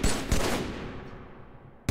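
Short bursts of gunfire in Halo 3, a sharp shot at the start and another near a quarter second, then a decaying tail before a final loud crack at the end, with no talking.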